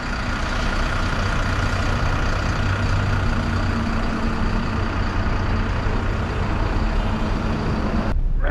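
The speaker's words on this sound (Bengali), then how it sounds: "এই বাসগুলো হচ্ছে ভলভো মাল্টি এক্সেল" A Volvo multi-axle bus engine idles with a loud, steady diesel rumble and broadband hiss that holds without change before cutting off abruptly at the end.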